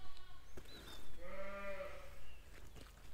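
Ewes bleating while being penned for sorting on a farm, one clear, fairly close bleat at mid-clip over a low rumbling background with faint other noises.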